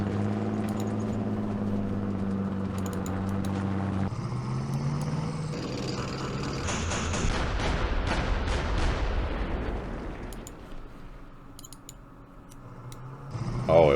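Explosions from a minefield blowing up Sherman tanks in a Middle East wargame campaign at Gebel Libni, heard as a broad rumbling burst building mid-clip over a low musical drone, with a sharp thump near the end.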